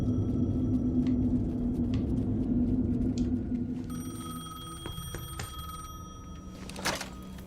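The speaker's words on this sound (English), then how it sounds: "The payphone was ringing." A payphone rings in the Alan Wake 2 video game, with repeated bright electronic bursts sounding over a low, rumbling ambient bed and no voices.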